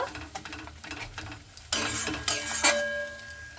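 Spice paste seasoned with salt and turmeric sautéed and stirred in a pan for a pointed gourd (potol) dish, with scraping stir strokes early on, then a louder burst of sizzling after about 1.7 seconds that keeps hissing steadily to the end.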